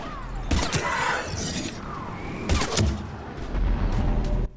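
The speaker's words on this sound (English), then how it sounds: "I'm pretty much just firing randomly and hoping for the best" Gunfire from the sci-fi shooter Mass Effect 3: loud, sharp bursts of shots and crashing impacts in two main clusters over a dense, noisy combat background, with no talk.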